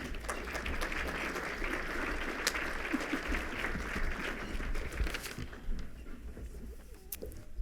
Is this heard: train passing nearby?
no